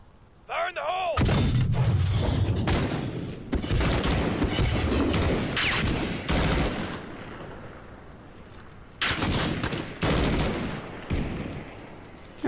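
Modern Warfare 2019 battle: a grenade blast followed by dense, continuous rifle and machine-gun fire with booming impacts, loud and close, under shouted voices.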